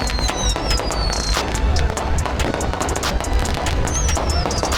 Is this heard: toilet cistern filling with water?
no